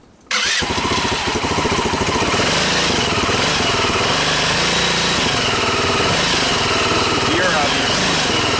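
A repaired ATV engine fires up abruptly after a brief quiet moment, then runs loud and close with a rough, pulsing idle and throttle blips, while a person speaks briefly.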